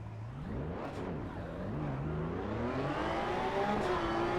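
Porsche 911 GT3 Cup rear-engine race car in the racing game Assetto Corsa EVO at Suzuka, its engine note rising and falling steadily through gear changes, loud and continuous with no talk.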